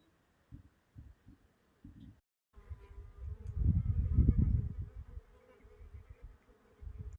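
Low, droning insect buzzing swells to a loud peak and fades again, with short bursts of buzzing flying close by before it.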